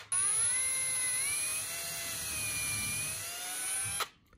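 A power drill fitted with a countersink bit boring screw holes in wood for a roof skylight, a steady high-pitched whine held for about four seconds before stopping abruptly, close and clear, alone without talk.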